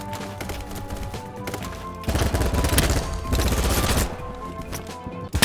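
Rapid automatic fire from an MP7 submachine gun in the shooter game Battlebit Remastered, loud close bursts that rattle on for about two seconds, over a busy game soundscape.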